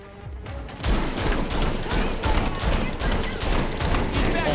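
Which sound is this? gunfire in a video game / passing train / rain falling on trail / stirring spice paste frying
gunfire in a video game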